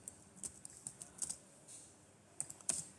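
A computer keyboard being typed on in quick, irregular bursts of soft clicks with brief pauses, faint and close, with no voices.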